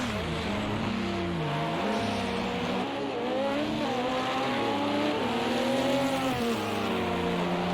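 Audi and Porsche LMP1 prototypes battle at Bathurst in a racing game, engines screaming continuously with rising and falling pitch as they shift and chase each other, loud and close throughout with no talk.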